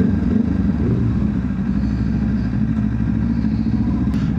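A Kawasaki Ninja 500 sport motorcycle with an aftermarket exhaust drones loudly and steadily up close, a deep rumbling exhaust note with no voices over it.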